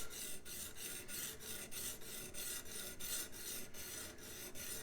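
A steel plane iron for a scrub plane is rubbed back and forth on a coarse sharpening stone, making a steady rhythmic rasping of about ten even strokes, close and alone.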